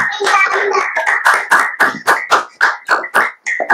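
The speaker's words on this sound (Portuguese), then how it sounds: "vamos mostrar as nossas faces para o Ricardo e aplaudi-lo" Webinar participants clapping for a guest speaker, a run of sharp individual hand claps in an uneven rhythm, close and loud, as if from several microphones at once.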